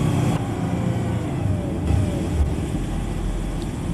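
M1070 heavy equipment transporter truck engine accelerating to about 1800 RPM during a maintenance check, a steady low diesel rumble that rises slightly, with no voices.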